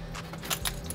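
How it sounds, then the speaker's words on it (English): Keys jangle briefly close by, a few quick metallic clinks within a second, with no talk. "And then my keys."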